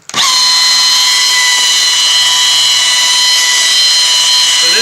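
A car detailing polisher buffs a panel at a slow 1,000 RPM, giving a loud, steady high-pitched whine that starts abruptly and holds unbroken for several seconds with no talking.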